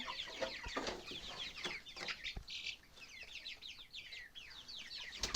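Young broiler roosters cluck and squabble nearby in a rapid, chattering series of calls, with occasional rustling and light thumps in between.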